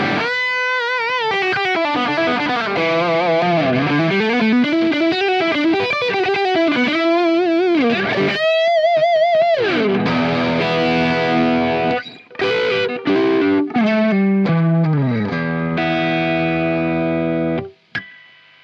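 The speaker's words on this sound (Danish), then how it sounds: "hvordan sådan en set Boatman pickup og lyder i en Gibson Les Paul?" Distorted Gibson Les Paul with Bothmann TH-1 humbucker pickups playing bent lead lines and chords, thick and saturated with sustain, then several choppy strums and a final ringing chord.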